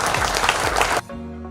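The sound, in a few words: applause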